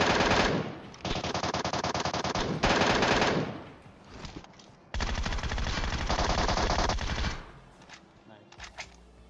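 MK14 rifle gunfire in PUBG, fired in two long, rapid bursts of loud shots with short gaps between them, then trailing off into a few scattered sounds.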